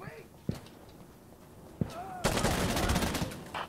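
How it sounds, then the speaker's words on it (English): A fast-firing machine pistol in Insurgency Sandstorm: two sharp single shots ring out, then a dense, loud automatic burst of over a second, with speech audible in between. "Yeah, that's a machine pistol."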